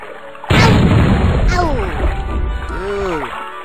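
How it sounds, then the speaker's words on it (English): A missile blows up in the Raft Wars game with a sudden loud crash and burst, followed by ringing, descending tonal sweeps, and a voice talks over the aftermath. "Let's just use a missile."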